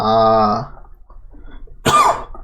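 A single loud cough burst, from a person saying they have a lingering post-flu cough, comes near the end after a sustained tonal hum and a quiet gap.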